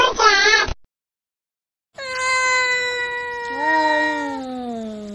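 A cartoon cat meows twice: a short, wavering cry, then silence, then a long, drawn-out meow that slides lower near the end, loud and clear.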